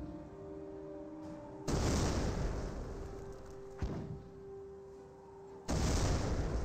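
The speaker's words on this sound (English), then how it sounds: "we do got the 60mm mortar trying to hit the Grenadier" A 60mm mortar fires in the WWII strategy game Company of Heroes 1, bombarding Volksgrenadiers: a few heavy booming impacts spaced seconds apart over a steady battle hum, with one sharp crack between them.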